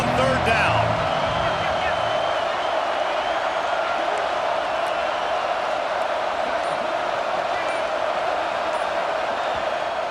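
A home crowd at a football game roars steadily as the defense tries to get off the field on third down, a broad sustained swell of cheering with a commentator talking over it.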